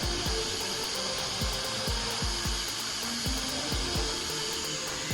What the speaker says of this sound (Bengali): এই তো হার্ড ডিস্কটি চালু হয়েছে।